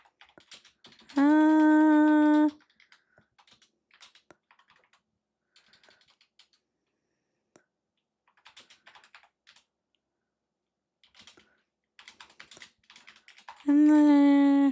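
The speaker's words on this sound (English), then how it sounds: "I'm typing here." Scattered, light clicks of typing on a computer keyboard come in short sparse bursts, near and quiet, between two loud synthetic game chimes from a Danganronpa fan game.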